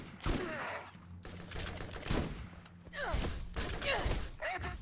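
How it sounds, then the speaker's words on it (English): Shotgun blasts and other gunfire from the video game Borderlands 1 boom in a handful of separate bursts, with people talking between and over the shots. "Oh, you had a shotgun."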